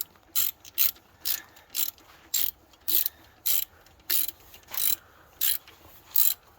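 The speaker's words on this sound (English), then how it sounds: "They probably only have about 30 pounds of torque on them. So you hear it click?" A torque wrench clicks in repeated short bursts while tightening bolts to about 30 pounds of torque during an alternator replacement, about a dozen in a steady rhythm, close up with quiet pauses between.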